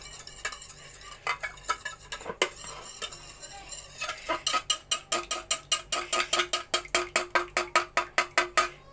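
An egg is beaten in a wide bowl, fast and close, the whisk clicking against the sides. The strokes are loose at first, then become a steady, sharp rhythmic tapping.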